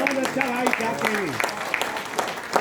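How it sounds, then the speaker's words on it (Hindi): Audience applause for the performers of a Bhojpuri Bidesiya stage show of Bhikhari Thakur's work: a brief burst of clapping beneath a prominent voice that carries on throughout. "एक बार जोरदार तालियां समस्त कलाकारों के लिए"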